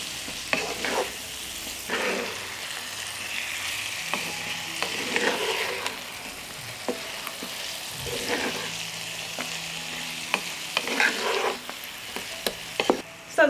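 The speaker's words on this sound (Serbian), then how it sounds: "pa ću sve ovo promešati i nastaviti još par minuta da pržim sve ovo na nižoj temperaturi" Spices sizzle and fry in a pan on lower heat while being stirred, with a steady close crackle and repeated scraping stir strokes throughout, no voices.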